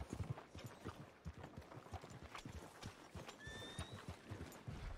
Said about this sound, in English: can you control that damn horse?